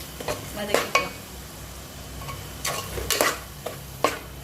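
A ground coconut-tomato paste for vadai curry sautéed in a pan, with a soft sizzle under a handful of sharp spatula scrapes and stirs spread across the moment.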